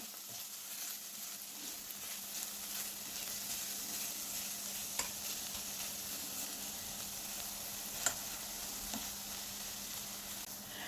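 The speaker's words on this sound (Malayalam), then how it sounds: "അതുപോലെ ഒരു അര ടീസ്പൂൺ ഉപ്പും കൂടി ഇട്ട് കൊടുത്ത് ഒന്ന് ഇളക്കി കൊടുക്കാം" Salt and spice powders stirred in a hot pan for prawn rice: a soft, steady low sizzle with a couple of faint scraping clicks, quiet throughout and with no voices.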